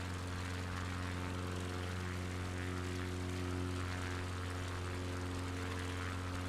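Steady, droning propeller engine of an XCub light bush plane in flight in a flight-simulator game, a continuous close hum with strong even harmonics and no talking.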